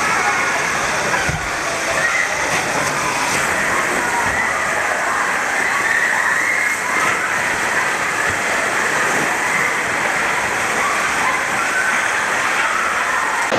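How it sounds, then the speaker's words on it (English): Water splashes at the foot of a water slide at Aqualand Köln water park in Germany, heard as a steady, loud wash of rushing and churning water that continues throughout, with faint voices in the background. "Hey, nice splash."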